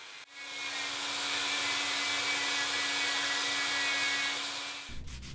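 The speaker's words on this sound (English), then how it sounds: "Now it was just a case of sanding it all back to the desired depth." A power sander sanding wood for a dining table whirs continuously at a steady pitch for about five seconds, then winds down abruptly.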